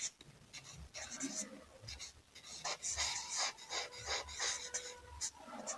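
Marker or chalk writing on a board during a design lesson, scratchy strokes and squeaks coming in bursts at close range, with soft breathing and background noise between them.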